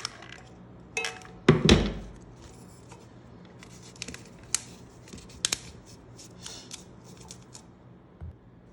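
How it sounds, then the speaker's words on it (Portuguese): Scissors snip through paper being cut to size for covering a recycled can, a few crisp close cuts with rustling paper handling and light table knocks between them, no talking. "Cortei um papel do tamanho aqui do fundo da lata, ó. E cortei um círculo um pouquinho maior."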